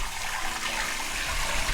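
Water runs steadily from a tap in a gentle, continuous splash while a pea-sized amount of face cleanser is worked up, the flow near and even throughout with no voices.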